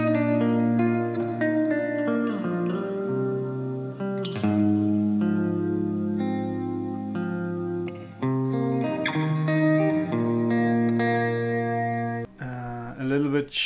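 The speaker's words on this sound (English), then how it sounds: "I add some of the reverb from the Slö." An electric guitar plays chords and melodic lines drenched in reverb from a Slö guitar pedal, the notes washing and lingering, followed by a brief burst of muffled noise at the end.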